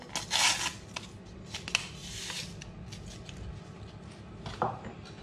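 A whisk works sugar and vanilla sugar together in a bowl for a mini chocolate cake, giving quiet, scratchy, irregular strokes with a few sharper scrapes, heard alone.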